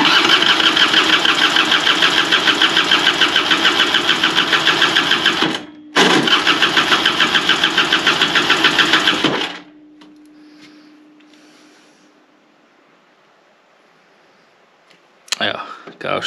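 Scooter engine cranked over with the starter during a compression test, a loud, rapid rhythmic churning for about nine seconds with one brief pause, then quiet with a faint lingering tone and a short clatter at the end.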